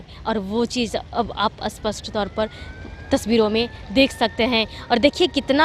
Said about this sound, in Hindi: ये सायरन की आवाज़ जो आपको सुनाई दे रही है